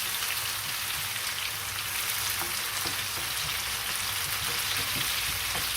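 Potatoes frying in a pan give a steady, dense sizzle with faint crackles and pops, continuous and moderately close, no voices.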